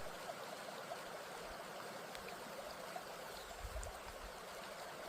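Mountain spring water trickling in a quiet setting, a steady, soft, continuous flow with no distinct drops, evenly hissing throughout at low volume.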